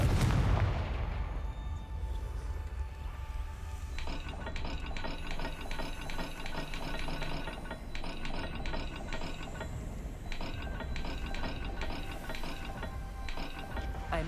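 Rotating dial mechanism in the Hogwarts Legacy video game, a steady run of rapid ratcheting clicks and gear-like ticks over a low rumbling bed, repeating in regular bursts with a faint tonal hum and no talking.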